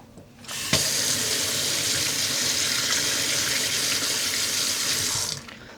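Water runs steadily from a kitchen tap for about five seconds while dyed yarn is rinsed in a pot at home, a loud continuous rushing splash that starts abruptly and then cuts off, with no talking.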